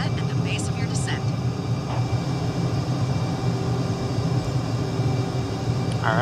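Fighter jet descending in Microsoft Flight Simulator 2020, a continuous low engine rumble and air rush holding steady, with a few short higher-pitched tones rising above it.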